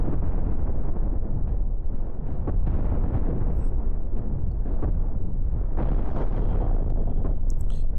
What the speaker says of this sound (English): Oh, the flak's shooting too now.